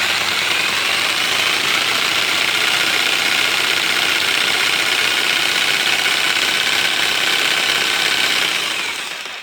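A Texas TA-01-580 electric jigsaw running continuously at close range, a loud steady whine and rattle of the motor and blade that holds even for about nine seconds before starting to fade, with no talking.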